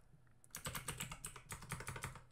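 Quick bursts of keystrokes on a computer keyboard while coding, a close, clicky run of taps with brief pauses between groups, heard alone.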